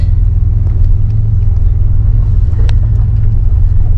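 A Buick Grand National cruises down the road, its engine a loud, steady low rumble heard from close inside the car, without any strong revving.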